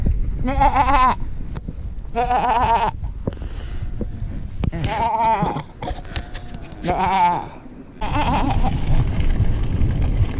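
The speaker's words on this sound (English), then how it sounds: "Black sheep." Black sheep out in the countryside bleat several times in long, quavering calls, loud and close. Wind rumble runs beneath them, and there are brief pauses between the calls.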